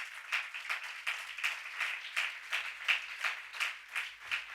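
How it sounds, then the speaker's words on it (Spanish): A church congregation applauds during a sermon with rhythmic, steady clapping in a regular pulse, many hands beating together in unison at moderate volume without speech. "¿Cuántos le dan un aplauso a Jesús por esto?"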